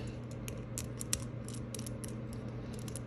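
A Rolex Jubilee bracelet tool is tightened down on a bracelet link, giving quiet, close metallic clicks and small ratcheting ticks over a faint hum, with no talk.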